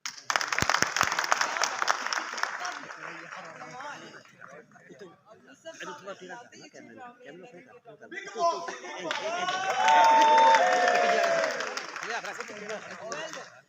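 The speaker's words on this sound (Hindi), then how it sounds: "इनके लिए क्लैप है।" A theatre audience at a stage drama claps for the actors, a loud burst at first that thins into scattered clapping under chatter. Crowd noise and cheering then swell again near the end.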